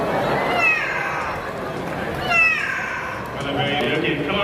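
A talking bird at Singapore's Bird Paradise mimics a cat's meow, with drawn-out wavering meows rising over a noisy crowd of onlookers at a bird show.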